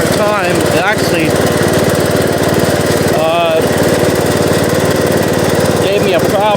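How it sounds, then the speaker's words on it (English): A Bolens riding mower engine runs steadily and loudly close by, straining as it cuts through thick growth, with a constant throbbing drone and a few brief voices in the background. "This mower has a hard time."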